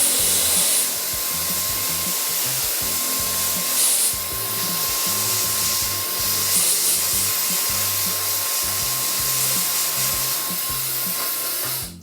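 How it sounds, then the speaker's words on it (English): A hair dryer blows steadily up close, warming adhesive tape on a French lace hair system. It makes a loud, constant rushing hiss with a thin motor whine that runs unbroken for about twelve seconds. "I'm going to use a hairdryer to make sure that it sticks"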